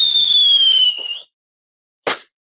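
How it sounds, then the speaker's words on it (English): A firework whistles loudly as it rises with a falling tone, then, after a gap of silence, a single sharp burst explodes, close and loud, with no talking. "Now these are the fireworks we should hear."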